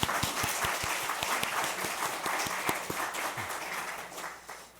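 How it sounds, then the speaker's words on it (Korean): A church congregation at an Easter Sunday service in Seoul applauds, many people clapping together in a dense, steady burst that holds for several seconds and fades out at the end. "우리 죽음을 이기신 주님께 우리 영광의 박수를 올려드리겠습니다."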